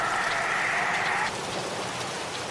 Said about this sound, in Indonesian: Bunyi seperti hujan.